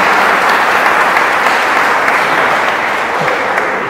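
Applause from a church pilgrimage congregation greeting a couple, a dense, steady wash of clapping that stays loud and close for the whole stretch before easing slightly at the end.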